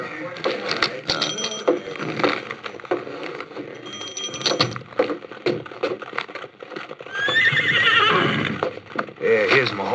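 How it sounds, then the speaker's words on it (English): Horses whinny loudly and shrilly and hooves clip-clop close by in a 1950s Western radio drama, mixed with scattered thumps and bursts of talk. "Here's my horses."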